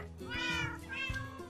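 Cats meow in Minecraft with the DerpCats mod, two drawn-out, rising-and-falling meows in quick succession, clear and fairly close, with no talk over them.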